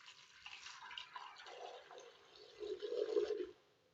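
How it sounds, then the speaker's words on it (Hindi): Water poured into a pressure cooker holding small raw mangoes for a mango drink, splashing and gurgling steadily at close range and growing louder and fuller toward the end before stopping. "इसमें डालेंगे पानी"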